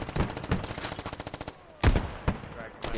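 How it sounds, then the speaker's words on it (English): Machine gun fire in a video game battle as Canadian mechanized forces assault Russian defenders at Narva: a rapid rhythmic burst of loud shots, then a pause and several heavy, separate blasts. "Machine gun lights up the Russian defenders."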